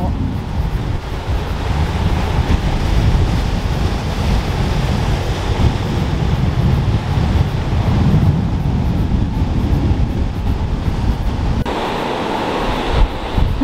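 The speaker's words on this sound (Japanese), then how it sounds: "波も強っ。" Strong ocean surf roars continuously, loud and close, mixed with gusty wind noise, no pause in the churning water.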